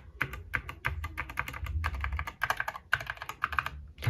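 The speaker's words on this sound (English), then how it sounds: "I'm pressing FN. That's basically the function button." Someone types quickly on an Epomaker Skyloong SK61 60% mechanical keyboard with yellow switches, producing a close run of crisp, clacky keystrokes with short pauses and no speech.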